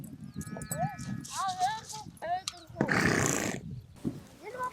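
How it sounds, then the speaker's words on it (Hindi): Horses in Mongolia neighing and whinnying in several rising and falling calls, close by, alongside some bleating and a burst of broadband noise, with brief voices in between. "हमारे पास बहुत घोड़े हैं। इन घोड़े पर हम सवारी करते हैं।"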